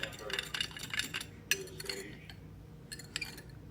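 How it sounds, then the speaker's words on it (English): A spoon lightly stirs sugar into a mayonnaise-based salad dressing in a bowl for cornbread salad, giving scattered clinks and scrapes against the dish while a person talks. "we'll just kind of lightly stir that up so it mixes well"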